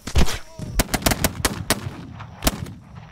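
Video game gunfire during a fort clearing in This Land is My Land: a rapid string of sharp, loud shots, some doubled and spaced irregularly, ringing out alone with no talk.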